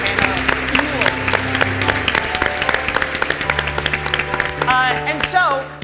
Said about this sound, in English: Can we give another round of applause for the fantastic panel?